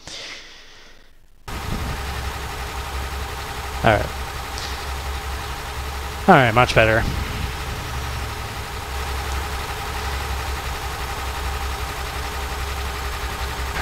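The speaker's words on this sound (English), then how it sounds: "Pretty much know how to hear that engine roar without having my voice drown it out." A heavy truck in Euro Truck Simulator 2 idles with a steady low rumble, driving through Scotland from Aberdeen toward Glasgow, while someone talks briefly over the engine.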